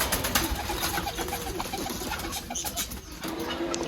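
Fancy pigeons, a pair of black short faces and an American lakkha white, coo softly amid a busy bird-filled background, with low murmuring calls running throughout and no talk.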